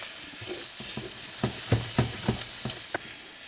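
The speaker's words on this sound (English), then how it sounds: "this frying off the shrimp" Shrimp frying in a pan with onions, a steady sizzle broken by several sharp stirring scrapes and clicks, close and alone.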